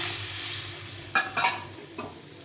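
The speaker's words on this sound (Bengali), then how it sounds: "এখানে 3 বাটির মতো জল দিয়ে দিলাম" A sizzling fish curry pan hisses steadily until water is poured in, producing a few sharp splashing bursts and then a quieter bubbling hiss.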